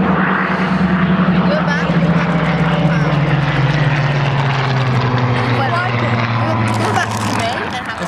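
Spitfire fighter aircraft, a late high-powered mark of over 2,000 horsepower, flying past at the Wings and Wheels 2014 air show; a loud, steady engine roar with a falling pitch as it passes, under a commentator talking over the public address.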